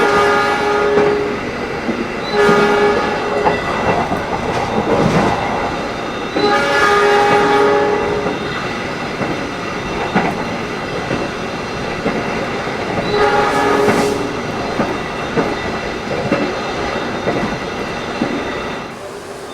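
A Brawijaya passenger train rumbles along the rails with clickety-clack and repeated loud horn blasts, several long honks spread over the run, heard from on board.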